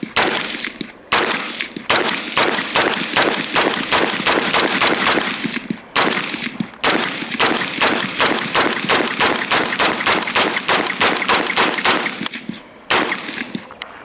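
An FN15 AR rifle fires fast, loud, evenly spaced shots in several long strings with brief breaks, each report sharp and ringing, close to the listener outdoors.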